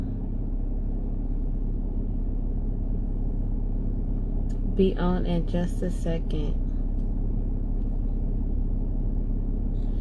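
Low, steady car rumble from inside a moving vehicle, continuous road and engine drone throughout, with a person speaking briefly over it midway.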